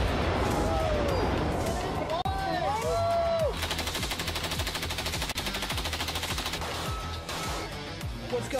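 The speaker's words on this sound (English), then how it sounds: "We're shooting guns." Rapid gunfire at the Big Daddy Unlimited Epic Shoot Event 2021, featuring a Glock 43X: fast, continuous shots hammering loudly for several seconds, mixed with crowd and other outdoor range noise.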